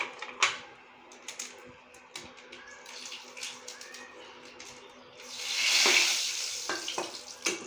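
Green chillies and a bay leaf frying in hot oil in a pan, soft crackling and popping that swells into a brief louder sizzle burst, with scattered kitchen clinks.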